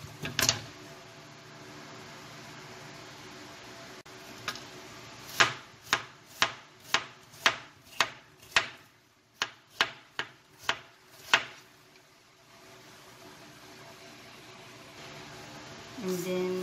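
A very sharp knife chops an onion on a board, giving about a dozen crisp, evenly spaced cuts after an opening thump. The chopping is close and clear over a faint background hum.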